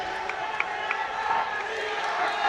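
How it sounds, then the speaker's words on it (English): A crowd cheers at the ABU Robocon 2023 robotics competition in New Delhi, a steady distant roar of voices with faint whistles and whoops throughout. "Understandably, the crowd is overjoyed."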